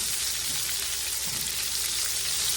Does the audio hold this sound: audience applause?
no